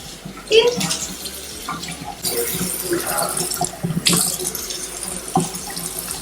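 Water runs from a tap in bursts, splashing and gurgling, with dishes clattering and voices talking nearby.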